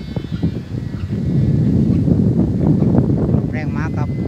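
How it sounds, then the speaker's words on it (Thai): Strong wind gusts steadily during a test flight of a 100 cm Chula kite, roaring loudly across the microphone outdoors, with a voice calling out faintly underneath. "ลมแรงมาครับ"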